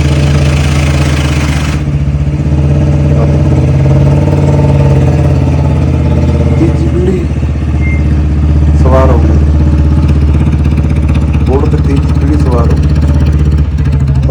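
A 1977 Royal Enfield Bullet engine idles with a steady, loud, thumping low drone, its beat slow enough to count. Brief bursts of talk and a few clicks sit over the running engine.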